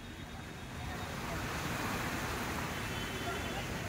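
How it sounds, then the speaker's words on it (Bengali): Sea waves at Girgaon Chowpatty beach in Mumbai at night in light rain, heard as a broad rushing roar of surf that swells slightly and holds steady, fairly distant and faint with some wind noise. "এখানটা কিন্তু মেন জায়গাটাই দেখুন, এখানটায় ঢেউ যাচ্ছে।"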